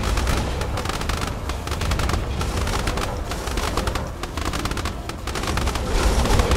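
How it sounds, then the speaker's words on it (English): Explosions burst inside a wooden airship during a naval-style sky battle in the strategy game Airships: Conquer the Skies, amid a continuous dense clatter of weapon fire and crackling blasts that stays loud throughout. "explosion inside the ship"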